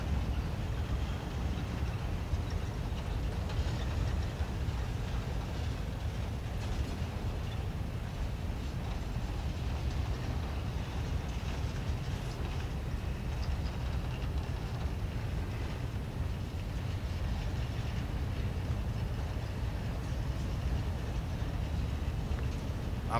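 Union Pacific EMD SD70AH-T4 locomotive number 3060 leads a train rolling past, a steady broadband rumble of wheels and engine holding for over twenty seconds without a break.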